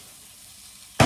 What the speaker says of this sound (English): Got sausages frying in a pan.